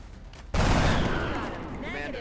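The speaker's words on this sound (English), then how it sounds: "Kill the sectoid, please. Heading out. With your machine gun." Burst of machine gun fire in the XCOM: Enemy Unknown video game, a loud sustained rattle that cuts in abruptly after a brief moment and rings on, with a voice faintly underneath.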